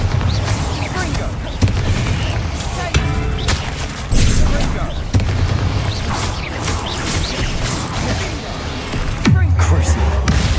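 Confringo and Bombarda spell explosions in the video game Hogwarts Legacy, a dense run of loud booms and crashes one after another that fills the whole clip, with a voice calling out over the blasts.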